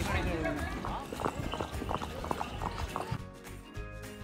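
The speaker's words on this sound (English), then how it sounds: "did a horse ride till sunset point." Horse hooves clip-clop at a walking pace on a hard path toward Sunset Point, Mount Abu, fairly close, with voices and outdoor noise mixed in before it quiets near the end.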